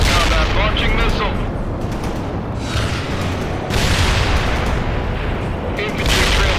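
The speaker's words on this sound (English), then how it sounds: "Launching missile." Dense, loud battle noise from the real-time strategy game World in Conflict, where a missile launch roars within continuous explosions and gunfire, with radio-style unit voices speaking over the din throughout.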